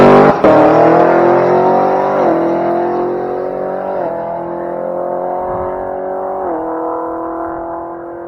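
A drag race car launches hard off the line at New England Dragway. The engine note is loud and close, rising through several quick gear steps before fading slightly as the car pulls away.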